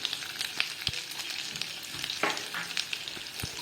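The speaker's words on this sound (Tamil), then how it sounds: "தேங்காய் பல்லை நெய்யில் நல்லா வறுத்துக்கணும்." Coconut pieces frying in ghee in a pan, a continuous crackling sizzle punctuated by sharp pops and the scrape of stirring, close and fairly loud with no talking.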